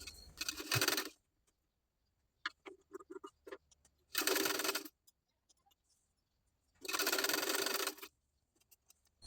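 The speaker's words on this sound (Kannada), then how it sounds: "ಈಗ ಹುಕ್ ಪಟ್ಟಿ ಹಚ್ಚಿ ಸ್ಟಿಚ್ ಮಾಡ್ಕೊಳ್ಳೋಣ." Sewing machine stitching a hook strip onto a blouse, running in three short, even bursts of about a second each, with soft clicks and fabric handling in the quiet gaps between.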